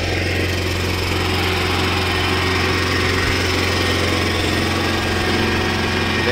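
Small fuel engine generator on a hybrid golf cart running steadily, a continuous droning hum at constant level throughout, close and fairly loud with no talking.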